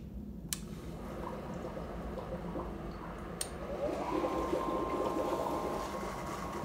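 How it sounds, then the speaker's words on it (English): Two pumps hum and gurgle steadily as they circulate electrowinning solution in an e-waste metal recovery setup. A faint liquid trickle runs under the hum, with a couple of sharp clicks and a rising tone near the end. "I'm going to turn on both pumps."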